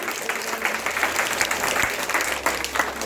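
Audience at a nursery school event applauding a child picked for a play role, steady clapping from many hands throughout at moderate loudness.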